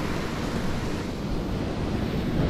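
Sea waves wash steadily against the beachfront in a broad, continuous surf roar, close and fairly loud, mixed with wind buffeting the microphone and no voices.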